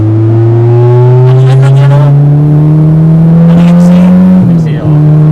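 A Honda Integra VTEC engine revs strongly in fifth gear, its loud, steady tone climbing slowly for several seconds before a brief dip near the end. The engine drone is continuous and close, with some talk faintly mixed in.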